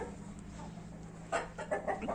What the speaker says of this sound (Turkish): Bunlar da işte burada civcivleri büyüten tavuk.